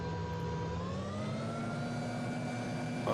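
A video game helicopter flying, a steady droning engine whine with sustained tonal hums that slowly rise in pitch, moderately quiet and unbroken, with no voices.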